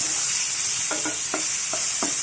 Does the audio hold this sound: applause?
no